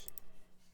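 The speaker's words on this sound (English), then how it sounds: "Mouse clicks" Two quick, soft computer mouse clicks sound close together in a quiet room.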